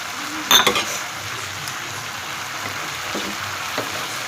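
Peas and a spoonful of yogurt are stirred into a dhaba-style mixed vegetable karahi. One sharp scrape of the spoon against the pan is followed by a soft, steady sizzle and a few faint clinks.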